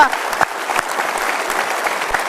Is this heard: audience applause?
yes